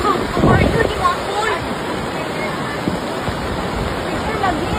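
Raging flood waters of a river rush in a loud, broad roar that fills the whole clip, with a burst of splashing and wind buffeting near the start and people shouting faintly over the torrent.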